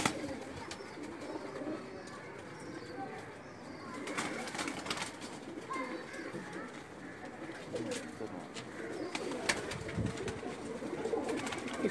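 Breeder pigeons coo repeatedly in a loft, their soft, throaty calls overlapping at moderate distance over a busy background with occasional light knocks and movement.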